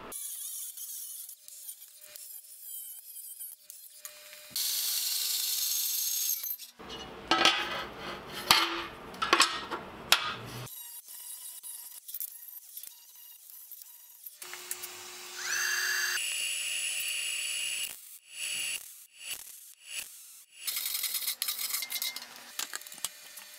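Steel plate being cut to size for a rocket stove firebox base, with bursts of harsh grinding and cutting noise alternating with quieter metallic clatter and tool handling, close and loud, no talking.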